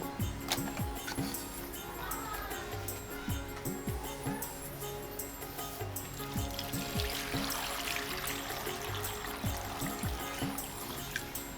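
Water poured and trickling steadily over vegetables being washed, a continuous close splashing stream that runs throughout under scattered clinks and faint background noise.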